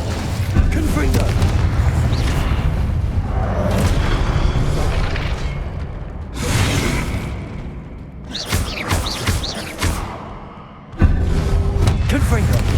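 Blasting-spell explosions from Hogwarts Legacy land as a string of heavy booms and whooshing bursts, several loud thuds spaced through a busy game fight, with brief voices among the blasts.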